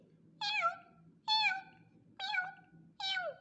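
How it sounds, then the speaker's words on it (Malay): Kitten meowing for milk: four clear, separate meows in an even rhythm, each rising then falling, close and alone over a faint hum. "Itu anak kucing minta susu."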